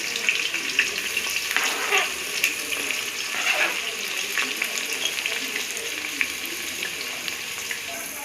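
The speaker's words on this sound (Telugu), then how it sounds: "ఇప్పుడు దీంట్లో ఉల్లిపాయలు వేస్తున్నాను." Large onions sizzling in a hot pan, a steady close frying hiss with soft crackles and occasional stirring scrapes running throughout without a break.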